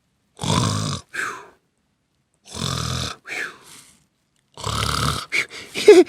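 A voice imitates snoring: three long rasping, throaty snores with pauses between, each ending in a softer exhaled rattle, close and fairly loud.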